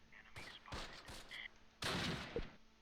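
MG34 machine gun fire in the Close Combat video game, set at Arnhem in 1944: several short bursts of gunfire, with a louder, heavier burst near the end.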